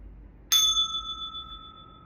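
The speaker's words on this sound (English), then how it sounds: "So I have a sound bowl, and this is a third eye chakra sound bowl." Third eye chakra sound bowl struck once, a sharp bright strike followed by a clear, sustained high ringing tone that slowly fades, heard alone in a quiet room.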